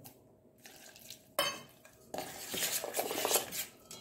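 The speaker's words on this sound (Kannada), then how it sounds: "ಕೈಯಲ್ಲಿ ಕಲಗಿಸ್ಕೊಳ್ಳೋಣ." Instant dosa batter made from premix powder is mixed by hand with a little salt and water in a bowl, giving wet squelching and stirring with clinks of metal utensils against the dish.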